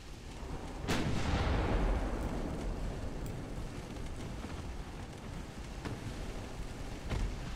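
Heavy naval gunfire in Ultimate Admiral: Dreadnoughts, with 10-inch shells fired at an armored enemy battleship: a loud booming salvo that rolls out, then sustained rumbling broken by further distant thumps.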